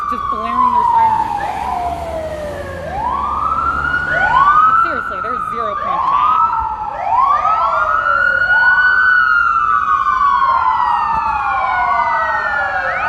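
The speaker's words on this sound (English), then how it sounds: "Why the fuck did they follow us for 15 minutes just blaring their sirens?" Police car sirens blare close and loud during a Seattle protest, several wailing and yelping tones overlapping and sweeping up and down continuously while a person talks underneath.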